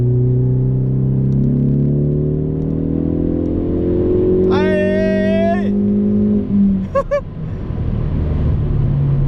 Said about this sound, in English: Up a hill, 2-liter, did 90, and it's a Ford Focus.